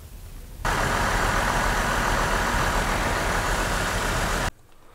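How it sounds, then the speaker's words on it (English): A steady, even engine drone runs at idle for several seconds with no change in pitch, then cuts off abruptly. "Now we'll do that same test with the engine running."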